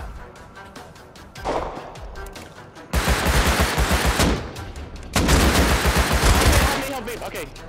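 Rapid automatic gunfire from a video game shooter, bursting in loud sustained volleys close by, with a voice talking over the shots.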